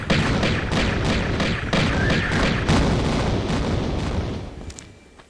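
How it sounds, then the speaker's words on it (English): Explosions in the 1996 video game Tomb Raider, Greece level: a run of loud booming blasts in quick succession, fading out near the end, with no talk. "you do not want to get caught in that explosion"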